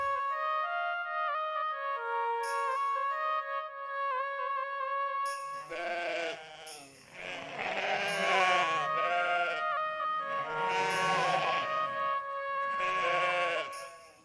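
Sheep and goats bleat in long, wavering calls, one sustained tonal cry followed by several overlapping bleats from more animals, loud and close with no talk.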